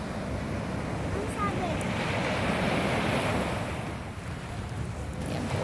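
Choppy sea waves roll against the shore at La Union, a loud, continuous wash of surf mixed with gusting wind against the microphone.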